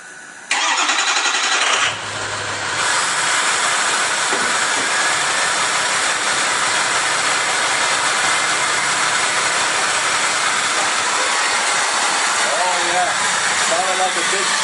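A Ford diesel truck with a 4-inch straight-pipe exhaust and turbo downpipe cranks and fires up, then settles into a loud, continuous, hissing roar like a jet, heard close for the rest of the clip.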